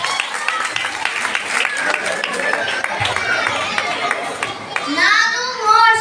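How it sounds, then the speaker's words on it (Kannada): Applause for a child playing Moses at a children's church performance, a steady patter of clapping from a crowd of children and adults, with chatter and young voices mixed in and rising toward the end. "ಮೋಶೆಗೆ ಜೋರಾಗಿ ಚಪ್ಪಾಳೆ ತಟ್ಟೋಣ"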